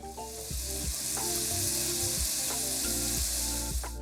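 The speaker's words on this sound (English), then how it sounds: "give it a quick stir, and then just let these carrots and peppers cook" Carrots and peppers sizzle steadily as they fry in a pan, with repeated low thuds and scrapes from stirring at intervals, heard close up with no talking.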